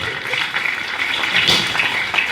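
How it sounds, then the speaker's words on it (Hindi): Students and teachers at Patanjali Gurukulam in Haridwar clap to welcome new pupils, a brief, close patter of applause in a room with a voice mixed in. "इनके लिए भी ताली बजा दो"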